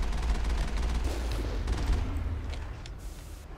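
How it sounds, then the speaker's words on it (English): Sustained gunfire in the video game Mass Effect, a rapid, continuous rattle of shots with heavy low rumble, steady and fairly close, with no talking. "just fire at him until he dies"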